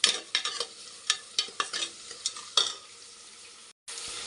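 Onions frying with rock salt in a pan for Hanumanth-style biryani, with repeated stirring scrapes and a steady sizzle, ending after a brief pause.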